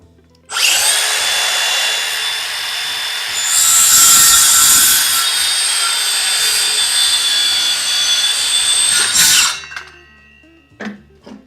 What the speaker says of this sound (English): that's what this Makita saw is for